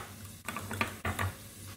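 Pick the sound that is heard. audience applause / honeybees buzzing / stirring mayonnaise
stirring mayonnaise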